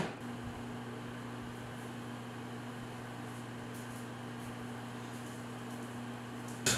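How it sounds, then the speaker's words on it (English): A microwave oven heating a potato, humming steadily as it runs, a constant electrical drone with a faint fan whir, ending in a brief click. "We're gonna throw it in the microwave."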